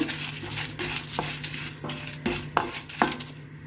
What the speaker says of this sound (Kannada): ಕಡಲೆಬೇಳೆ ಮತ್ತು ಬೇಳೆ ಎಲ್ಲ ಕಂದು ಬಣ್ಣಕ್ಕೆ ಬರಬೇಕು ಅಲ್ಲಿವರೆಗೆ ಚೆನ್ನಾಗಿ ಹುರಿಬೇಕು